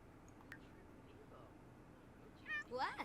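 A cat meowing in The Sims 4 life-simulation game, two short rising meows near the end, clear over a quiet background hum.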